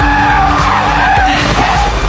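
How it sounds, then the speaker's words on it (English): A car struck by a truck skids and drifts toward the roadside, a loud continuous tire squeal with a droning engine tone running steadily throughout, close and unbroken. "When the truck rams into her, Daisy drifts to the roadside."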